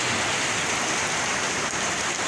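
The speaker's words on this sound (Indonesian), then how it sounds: "Hujan euy." Steady, dense hiss of rain falling outdoors, continuous and fairly loud throughout, with no other sounds standing out.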